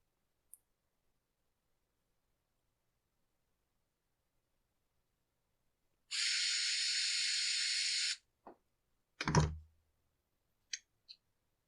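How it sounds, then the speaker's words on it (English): Compressed air nozzle blowing dirt from a screw head on a Husqvarna 372XP chainsaw: one sharp two-second hiss burst, then a thud and a few small clicks in otherwise near silence, close by. "Just blowing the dirt out from the screw head so I can get in there and loosen it."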